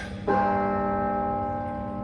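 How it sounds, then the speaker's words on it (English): A large church bell strikes once at Berkeley and its deep, rich tone rings on, slowly fading with a long sustained hum. "The playing of the bells."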